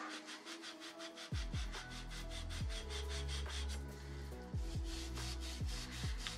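A bicycle headset pivot is rubbed clean with steady, repeated strokes, a close and fairly loud scrubbing with periodic strong bursts that starts after a brief quiet moment.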